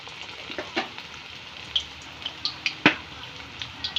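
Slices of raw banana crackle as they go back into hot oil for a second frying as chips, with a soft bubbling bed and scattered sharp pops and spits at close range.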